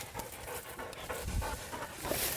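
A hunting dog pants hard after retrieving a shot woodcock, quick rhythmic breaths close by and fairly loud, continuing steadily with no talk over them.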